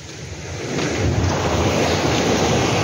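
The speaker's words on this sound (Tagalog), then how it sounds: "Malakas guys ang alon." Strong sea waves surge and crash against a seawall in Bicol, a loud continuous roar of surf and spray building and staying heavy throughout, with wind buffeting the microphone and no voices.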